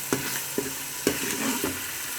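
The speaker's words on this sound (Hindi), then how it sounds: "मसाले को अच्छी तरह भून लें।" Spice masala sizzling and frying in a pan for a chicken daal, with a spoon stirring and scraping at intervals, about four sharp clinks over steady close-up sizzle.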